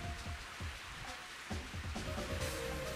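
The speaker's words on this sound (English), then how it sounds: "And it's raining." Steady rain pattering down on a golf course in the Mario Golf video game, a dense continuous hiss of drops with scattered low thumps of game sounds, holding at an even moderate level throughout.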